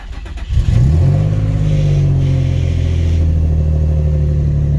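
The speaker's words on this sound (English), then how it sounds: "Car starts, car is fixed from our side." A Nissan 350Z HR with cams, fitted with a retuned VQ ECU, cranks and fires up close by. Its engine catches with a rising rev and then settles into a loud, steady, rumbling idle that carries on alone.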